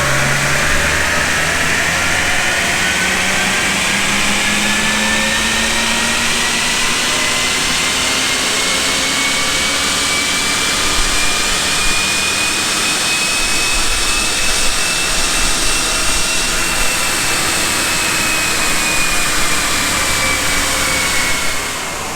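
An Audi 3.0 TFSI engine roars on a dyno pull, the tone sweeping steadily upward in pitch as revs climb, loud and sustained, with a high whine riding over the engine note and no talking.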